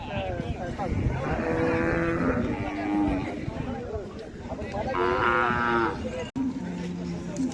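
Khillar cattle low and moo repeatedly at the Sangola livestock market, several drawn-out calls close by, mixed with people talking and market bustle.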